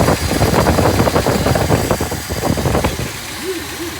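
A 1962 Dodge D200 truck's engine idles close by with a loud, rhythmic, slightly knocking chug that eases off toward the end, where a brief voice speaks over it.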